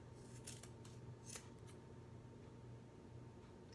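Scissors snipping yarn to trim a double curtain tassel, a few quiet crisp cuts over a steady low background hum, with no talking.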